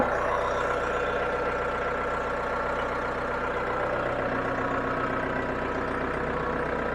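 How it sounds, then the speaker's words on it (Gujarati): A tractor engine runs steadily at idle, a continuous low diesel rumble with even firing, close and loud throughout with no pauses. "ટ્રેક્ટર ચાલુ થઈ ગયું છે એનું ફાયરિંગ તમે સાંભળી શકો છો"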